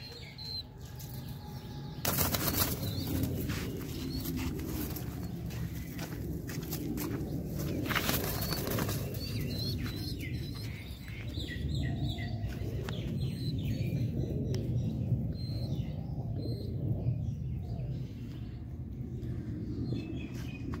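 Domestic pigeons near their coop, with a burst of loud, close wing flapping and rustling that carries on as a busy, continuous flutter; no clear cooing stands out.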